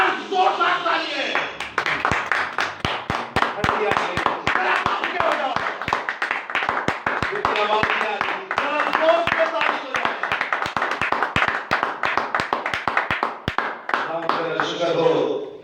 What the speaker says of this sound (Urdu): ایک بار زوردار تالیاں